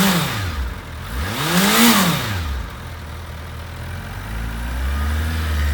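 A 2008 Suzuki GSX1300R Hayabusa engine revs up and drops back twice with rising and falling pitch, then settles into a steady idle, close and loud.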